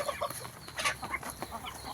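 Farm chickens cluck in a busy flock, with overlapping short clucks and calls close by and no talking over them.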